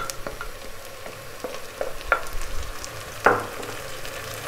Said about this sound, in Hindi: प्याज हमारा फ्राई हो रहा है जी।